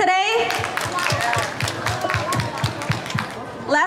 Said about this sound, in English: Can we please give her another round of applause for coming out to our event today?